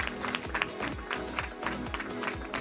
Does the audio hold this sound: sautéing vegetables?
no